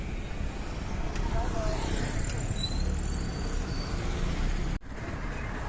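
Heavy road traffic in Erzurum rumbles continuously around a cyclist, with passing engines, faint squeaks and a voice speaking over the noise, and a sudden thump near the end.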